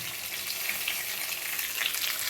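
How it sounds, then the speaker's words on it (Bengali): Chopped vegetables for shukto fry in a hot pan, crackling and sizzling steadily up close with a bright, busy hiss and faint stirring movement underneath. "সব সবজি ভাজা হয়ে গেছে, লাল লাল করে ভাজা হয়ে যাওয়ার পর টমেটো দেবো"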